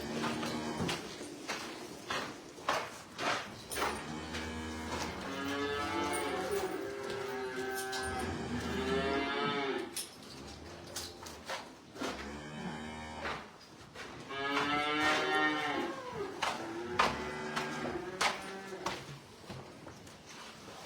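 A dairy heifer close to calving moos repeatedly inside a barn, several long, drawn-out lowing calls spread across the stretch, loud and close, with clanks and shuffling between them.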